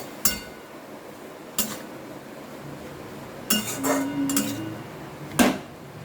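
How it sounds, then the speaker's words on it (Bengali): Turmeric powder is mixed into gourd leaves in a metal pot, heard as a few sparse, sharp clinks and knocks of a spoon against the pot, with a brief rubbing stir between them and no talking. "এবার এটা ভালোভাবে আমি মিশিয়ে নেব"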